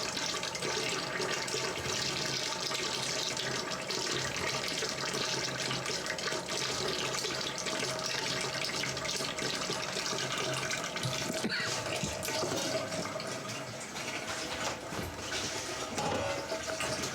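Sparge water for a rye whiskey mash pours steadily into a fermenter pot, a continuous close splashing rush with no talk.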